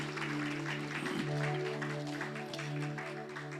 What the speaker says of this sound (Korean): 우리 축복과 격려의 박수로 함께 격려하겠습니다.